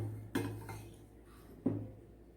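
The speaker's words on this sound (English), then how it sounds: "Mix this well." A spoon knocks and scrapes against a bowl twice while biscuit crumbs are mixed with melted salted butter, quiet and close, with soft rustling between the strikes.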